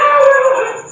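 Dogs howl nearby in one loud, sustained tonal cry that slowly fades, heard alone without talk.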